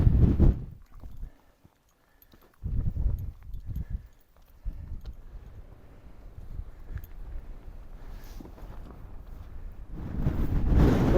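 Strong gusts batter the microphone on a Lake District mountain summit, coming in loud rumbling bursts with brief lulls between them and no talking.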